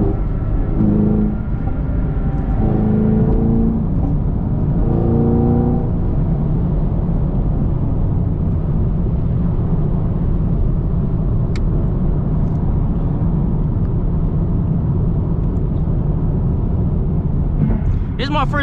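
A Chevrolet Camaro SS rumbles low and steady from inside the car during a late-night drive, a constant deep engine drone throughout. Voices talk over it near the start.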